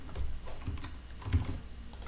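Typing on a computer keyboard while entering a city name into fertilizer management software, with steady close key clicks and a few heavier keystrokes across a couple of seconds.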